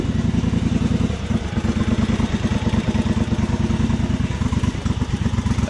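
Small engine of a John Deere GT245 lawn tractor idling steadily, a continuous low rhythmic chugging with faint mechanical clatter, close and fairly loud with no voices.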